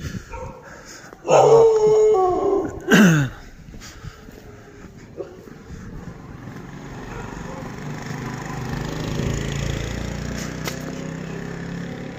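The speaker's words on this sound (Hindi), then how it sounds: "ये कुत्ते भौंक रहे हैं जी" Dogs howl and yelp in a couple of loud, drawn-out bursts on a street in Shakargarh late at night, followed by a low, steady background hum.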